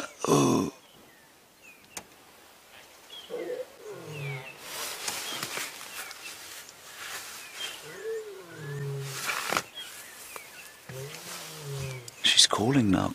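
A wild lioness on safari gives several low, moaning calls, spaced apart and fairly distant, under a guide's steady commentary in open bush.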